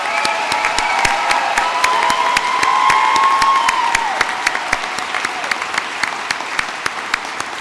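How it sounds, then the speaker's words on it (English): Applause for graduates at a 2024 graduation ceremony, with a large crowd clapping and some cheering and shouts at first, thinning into scattered individual claps. "Let's give them all a round of applause."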